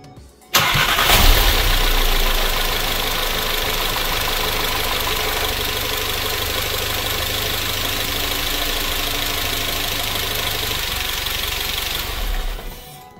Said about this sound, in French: on va tenter un premier démarrage